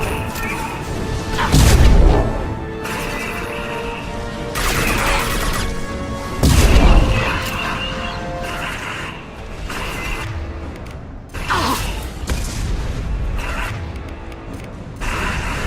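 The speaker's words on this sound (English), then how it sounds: "Multiple impacts. Collector vessel is taking damage." Weapons fire striking a Collector vessel in Mass Effect 2, with loud repeated crashing booms and metallic impacts spaced every few seconds over a dense, continuous battle din.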